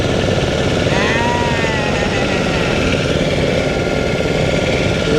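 A motorboat engine drones loud and close on Chilika Lake, a steady mechanical rumble that fills the whole stretch without a break.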